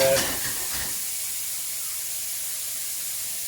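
Bacon hitting a hot oiled pan, a burst of crackling at the start settling into a steady, even sizzle that carries on alone at close range.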